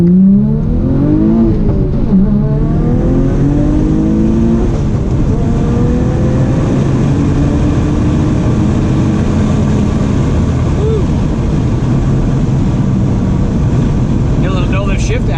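A 2001 Audi B5 S4 with Tial 770 twin turbos on a tuning session pulls hard from inside the cabin, loud engine drone rising through the gears with brief pops between no-lift shifts; people talk over it.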